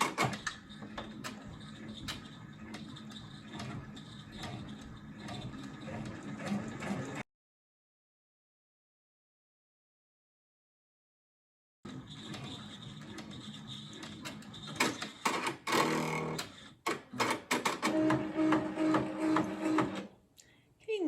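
Machine stitching taped-down fabric while making fall acorn decorations, a close mechanical whir with clicks and tonal whines, broken by a silent gap partway through.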